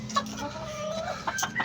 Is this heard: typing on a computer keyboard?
no